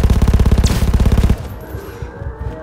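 Rapid, evenly spaced gunfire bursts from a video game, loud and close for over a second, then cutting off to fainter scattered shots and background noise.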